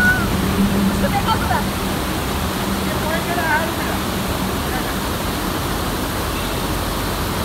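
Water rushes steadily near a road on the Gujarat-Rajasthan border near Ambaji, a loud continuous broadband flow lasting the whole stretch, with someone speaking over it.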